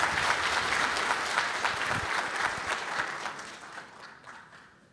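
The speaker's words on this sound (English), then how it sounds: "So let's give another round of applause to Dr. Valentine" An audience at a plant science symposium applauds warmly in a dense, even wash of clapping that gradually tapers off toward the end.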